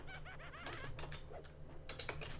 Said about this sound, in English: I don't know what I'm typing here.